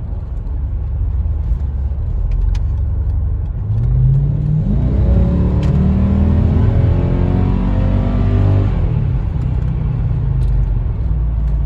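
A tuned Mercedes ML55 AMG accelerates hard while driving, its loud engine note climbing in pitch through a rising pull before settling back, heard close from inside the car.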